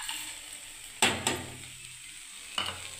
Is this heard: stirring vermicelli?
yes